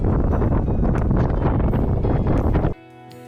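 Steady wind gusting across a sailboat at anchor in the Calanque de Sormiou, a loud broadband rush over about three seconds that drops abruptly near the end to a quieter hum.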